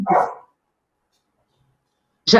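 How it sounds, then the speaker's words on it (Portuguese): A dog barks twice, a loud close bark at the start and another after about two seconds of near silence, with no talking in between. "Tem um cachorro aí"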